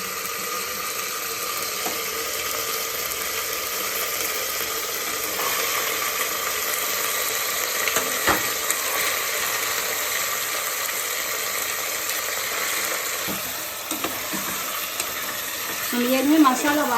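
Chettinad chicken curry masala with ginger and garlic being stirred in a pan: continuous soft sizzling and scraping runs throughout, with occasional utensil clinks and a louder scrape near the end.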